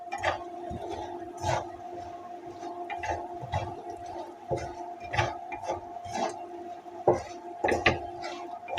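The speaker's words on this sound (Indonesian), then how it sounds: "Aduk-aduk lagi ya." Pak choy being stirred and tossed in a pan during a spicy stir-fry with nuggets, giving repeated clattering scrapes of utensil on metal at an uneven rhythm, with a steady sizzle underneath.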